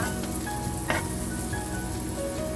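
Chicken pieces sautéing in a hot pan for a creamy chicken mushroom dish, a close, steady sizzle and crackle broken by a brief scrape of stirring.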